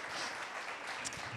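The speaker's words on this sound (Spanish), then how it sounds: "Les damos un aplauso de bienvenida." A church congregation applauds in welcome for first-time visitors, a dense, steady burst of clapping filling the room throughout.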